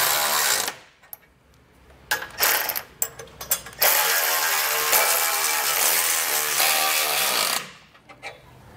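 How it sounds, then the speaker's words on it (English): A power tool tightens bolts on an EcoHitch hidden front mount trailer hitch, with short ratcheting bursts followed by one long sustained whirring run, close and loud, then a few brief clicks. "we'll follow that up with tightening this one down"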